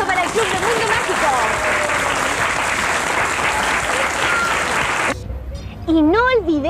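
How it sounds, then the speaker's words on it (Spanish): Loud, dense audience applause with cheering for the Club de Mundo Mágico on a Chilean children's TV show, lasting about five seconds before stopping abruptly as a voice begins speaking. "Un gran aplauso para el Club de Mundo Mágico."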